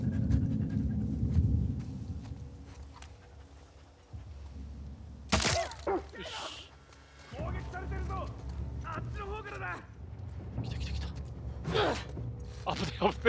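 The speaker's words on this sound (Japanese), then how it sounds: "あれ来るな、ワンちゃん。" In The Last of Us Part II, a dog pants in quick, breathy bursts through the first seconds, followed by sharper impacts and game sounds while someone talks intermittently over the action.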